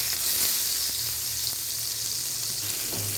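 Salted eggplant slices fry in a pan on the stove, a continuous close sizzle with faint crackles and no voices.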